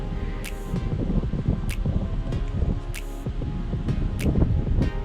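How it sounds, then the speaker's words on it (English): Strong wind blowing during kayak fishing off South Padre Island, a steady, close roar buffeting the microphone, with a few sharp higher taps or splashes breaking through. "The wind is gnarly."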